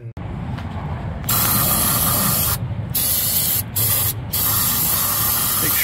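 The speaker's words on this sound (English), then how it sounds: "Now to get the caliper stuff ready. Brake clean." Aerosol brake cleaner sprayed onto a brake caliper during a drilled-and-slotted rotor install on a 2018 Toyota RAV4: several loud, close hissing bursts with brief pauses between them and no talking.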